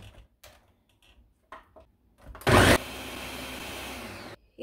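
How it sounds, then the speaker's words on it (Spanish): A kitchen blender whirring bread pudding mixture of bread, eggs, sugar and cinnamon: it bursts on loudly, then settles into a steady, close motor whir for about two seconds before cutting off, after some faint clicks and handling sounds. "Lo voy a licuar."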